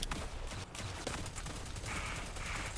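Rapid automatic gunfire in a video game roleplay, dense bursts of shots rattling continuously at fairly low level, with brief gaps and a high ringing tone near the end.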